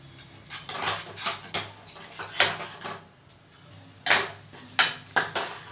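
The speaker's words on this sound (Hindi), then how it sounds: "अब हम मसाले को भून लेते हैं, और मसाले को हमको अच्छी तरीके से भूनना है।" Spiced masala roasting in a pan for stuffed baingan, heard as irregular clinks and scrapes of a spoon against the pan in short close bursts, with soft frying underneath.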